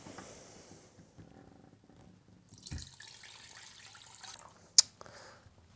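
Homemade vegetable broth is dumped into a cheesecloth-lined colander set over a big pot, making a soft, faint splash and trickle that swells briefly in the middle and ends with a sharp knock.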